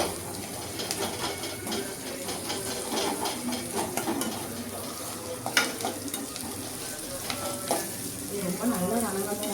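Chopped onions and curry leaves sizzle and crackle steadily in hot oil with cumin seeds, a close, continuous frying hiss broken by occasional stirring clinks against the pan, with no talking.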